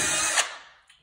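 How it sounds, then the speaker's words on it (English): A power drill boring a screw hole into a wooden newel post, a single short whining burst close by that winds down and fades out. "just drill some holes for where the screws will go."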